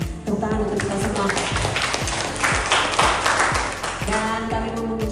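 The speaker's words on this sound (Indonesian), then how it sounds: "Tepuk tangan untuk kita semua." An audience at a school safety event in Indonesia applauds, a broad wash of clapping mixed with rhythmic music and tapping beats that runs throughout.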